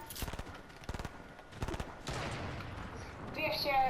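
A minigun fires in a video game in rapid bursts of dense, loud rattling, two short volleys followed by a longer rumbling stretch, with game effects rising toward the end.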